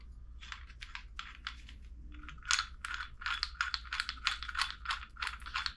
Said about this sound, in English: I'm just going to screw it all the way down and then we'll adjust it in later.